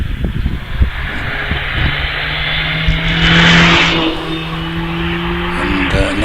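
A Mazda MX-5 race car accelerates up the Harewood hillclimb course, its engine note rising and swelling at moderate distance. A commentator talks over the engine throughout.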